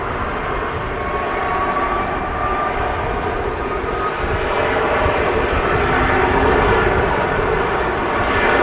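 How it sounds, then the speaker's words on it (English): A Virgin Atlantic Airbus A330 departs Manchester Airport, its jet engines producing a sustained broad roar that builds gradually in loudness as it climbs away. "Just as this Virgin Atlantic A330 departs."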